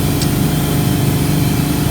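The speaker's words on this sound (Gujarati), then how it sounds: "ચલાવો બાઈક." A motorbike engine runs steadily at close range, a continuous low rumble with no talking, during a pilgrims' walk to Chotila.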